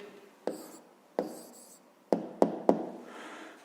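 A pen writes an answer on paper for a 5th-grade math exercise, giving close, quiet scratching strokes punctuated by five sharp taps as it touches down.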